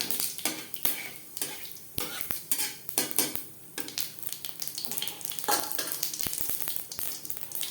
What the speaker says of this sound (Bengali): লঙ্কার সাথে জিরে দশ পনেরো সেকেন্ড ভেজে নেওয়ার পর